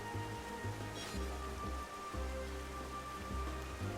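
Steady rain falling in Xenoblade Chronicles, a continuous even hiss of drops on surfaces beneath a looping low game music tone, with no one talking.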